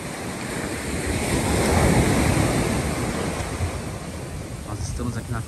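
Sea waves roll onto the short beach at Praia Vermelha in Penha on the northern Santa Catarina coast, a continuous loud surf wash swelling and easing with wind buffeting the microphone, no speech.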